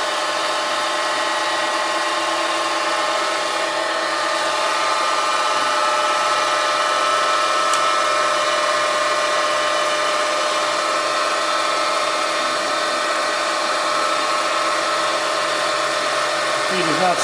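A Bridgeport 9" x 42" vertical milling machine runs on power feed, giving a loud, steady mechanical whine and hum that holds unbroken throughout with no pauses.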